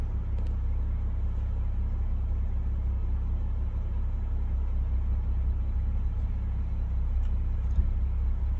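A Ford Mustang engine idles while parked, a steady low rumble that holds unchanged throughout, close and alone.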